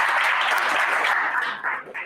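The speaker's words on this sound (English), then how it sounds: "Can you please give yourself a nice round of applause?" Audience applause at the close of a Free State Province Fire Awareness Day program, a dense, steady wash of clapping from a room full of people that thins and breaks into scattered claps near the end.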